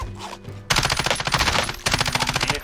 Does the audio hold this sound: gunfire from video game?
yes